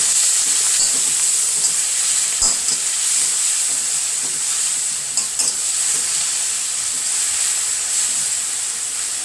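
Spices fry in a hot pan in a home kitchen, giving a loud, continuous sizzle and hiss with occasional scraping stirs, heard close and alone.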